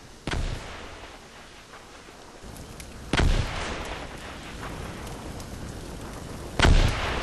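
Mortars fire in the World War II video game Combat Mission: Market Garden, three sharp, heavy blasts spaced a few seconds apart over a low rumbling battlefield background, with no voices.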